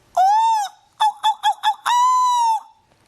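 A voice imitating a seagull: a long nasal squawk, a quick run of four short yelps, then another drawn-out cry, loud and close with nothing else around it.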